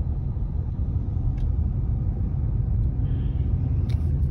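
Steady low road-traffic rumble surrounds a car moving slowly through congested streets in Sharjah, continuous and close, with a few faint higher clicks and brief brake-like hisses near the end, no talking.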